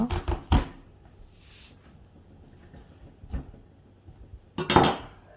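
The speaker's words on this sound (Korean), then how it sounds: "단호박은 반으로 잘라주세요." A firm kabocha squash being cut in half with a knife, giving a few sharp knocks and thuds against the board: a cluster at the start, one mid-way and a louder burst near the end, with quiet between.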